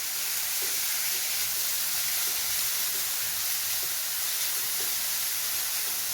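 Grated carrot, about one and a half cups, sizzles in a pan with a steady, bright hiss, continuous and fairly loud with faint stirring taps underneath.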